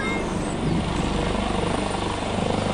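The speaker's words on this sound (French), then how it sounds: "Ça y est, l'hélico il décolle." Helicopter lifting off after a stop, its rotor thudding in a fast, steady chop over a loud engine drone, close and continuous throughout.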